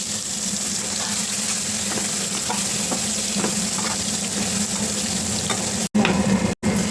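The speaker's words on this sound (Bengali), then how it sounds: "এবার আমি একটা আলু দিয়েছি, আলুটাকে ভেজে নেব।" Potato frying in hot oil in a pan with chilli, garam masala and cumin seeds, a steady loud sizzle and crackle with occasional stirring scrapes throughout, no talking.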